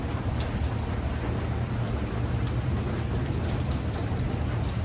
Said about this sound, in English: Getting a little bit of rain kind of wafting onto me from the little bit of the breeze